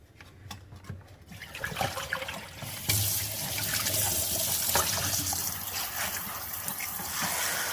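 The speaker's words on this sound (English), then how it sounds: "I'm going to drain these and pat them dry." Water splashing and running into a sink as soaked pork ribs are drained, starting with some handling clatter and then a steady rushing drain close by.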